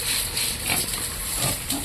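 A one-year-old mixed-breed pig grunts in short rough bursts at moderate loudness over steady background noise.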